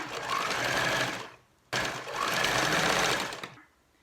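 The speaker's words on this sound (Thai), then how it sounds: "ก็ติดเข็มหมุดไว้นะเราก็มาเย็บกันเลยนะคะ" A sewing machine stitches fabric for a camisole in two steady close whirring runs of about a second and a half each, separated by a brief stop, with no voice over the sound.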